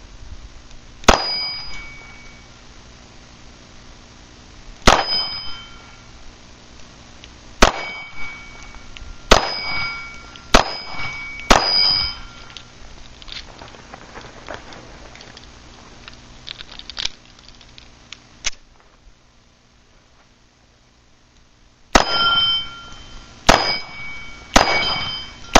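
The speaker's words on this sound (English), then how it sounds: "I'm just going to do a little shooting here with it at some steel plates" A Taurus TCP pistol fires at steel plates in sharp, loud reports, each followed by a ringing metallic clang. The shots come singly and in quick clusters, separated by stretches of near silence.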